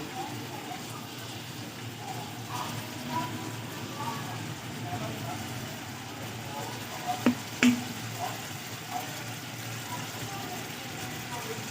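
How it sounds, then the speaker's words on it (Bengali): A steady, soft crackle of oil heating in a wok runs throughout, with a couple of sharp clinks of a utensil partway through. "তেল দিয়ে দেবো কড়াইতে"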